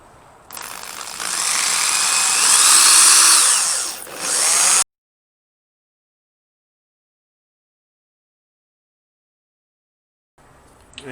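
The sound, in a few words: drilling holes in lawnmower blade steel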